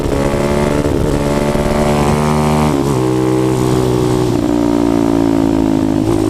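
A motorcycle engine revs continuously while the rider holds a wheelie, the throttle rising and easing as the brake is tapped to balance it. The engine is loud and close, with steady harmonic drone and small pitch swings throughout.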